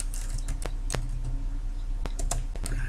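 Close, steady typing on a computer keyboard with irregular key clicks and a few sharper taps, recorded alone in a quiet room with no voices.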